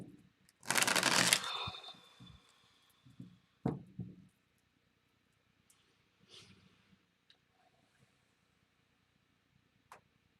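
Tarot cards are shuffled in one brisk, close riffle lasting under a second, followed by a few soft taps and handling knocks, then near silence with faint scattered clicks.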